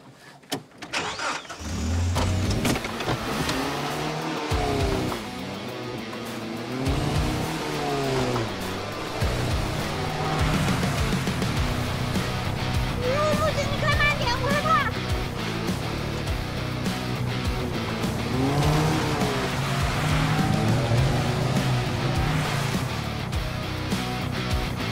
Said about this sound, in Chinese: 让你见识见识我的丛林漂移车技